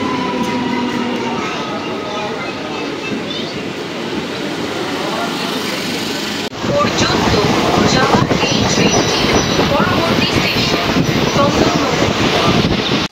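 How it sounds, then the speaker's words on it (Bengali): A train pulls into a small halt station in the early morning, a rumbling approach that jumps louder midway into a close, rattling roar of passing carriages with wind buffeting the microphone. "এই দেখো আমাদের ট্রেন চলে এসেছে সকাল সকাল 6টা বেজে 9 মিনিটে।"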